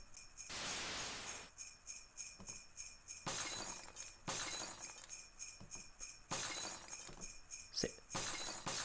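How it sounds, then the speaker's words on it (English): Glass toys shattering in the Santa Christmas Drop video game, several bright crashing breaks repeating every second or so over a steady jingly music bed, close and fairly loud. "You can't just throw their glass toys from your sleigh and expect them all to make it in there."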